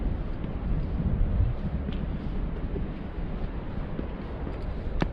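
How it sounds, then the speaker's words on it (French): Wind blows in off the ocean and buffets a GoPro Hero 6 or Hero 7 mounted on a pole, a constant loud low rumble with occasional small knocks. "là je suis face au vent, enfin face au vent, le vent vient de l'océan"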